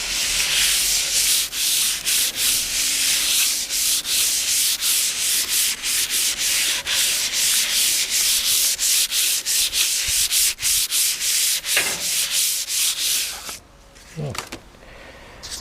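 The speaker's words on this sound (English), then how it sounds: "This is actually how they'll do the final sands on a car, wet sanding, before it finally goes to paint." Wet sanding a car body before paint: a steady, close rasping rub of abrasive over panel with rhythmic stroke breaks, continuing almost throughout before stopping near the end with a few brief knocks.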